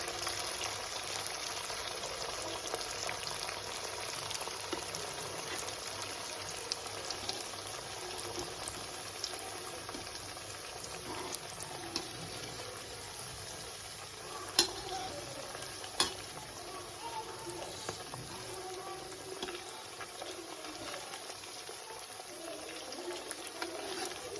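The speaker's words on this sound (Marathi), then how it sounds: "तर हे बघा मी वडी तळून घेत आहे" Sabudana vadas deep-frying in oil give a faint, steady bubbling hiss throughout, with a couple of sharp clicks and no one speaking.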